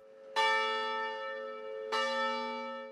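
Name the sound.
St. Thomas Parish church bells tolling in Huntington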